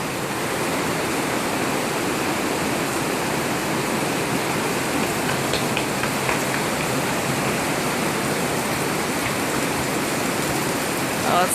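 Heavy rain pouring down in Kailua Kona, a dense, steady roar of broadband hiss that holds loud and unbroken throughout, with no voices.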